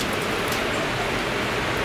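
Rain falling on rooftops on a hot, humid day, a steady dense hiss of drops that continues evenly throughout.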